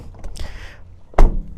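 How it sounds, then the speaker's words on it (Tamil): A heavy car door on a Force Trax Cruiser thuds shut once, loud and close, following a brief rustle of movement. "டோர் தட்டுற சத்தமே ஹெவியாக இருக்குது."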